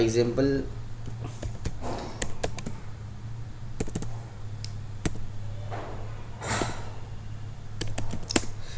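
Code typed on a computer keyboard in a programming lesson, quick bursts of close key clicks spread across several seconds, with a voice briefly at the start.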